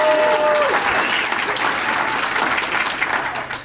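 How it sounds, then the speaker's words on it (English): Community gathering audience claps together at a civic presentation, a dense burst of applause that stays strong then thins out toward the end, with faint crowd murmur beneath. "We're gonna do this by clap, right?"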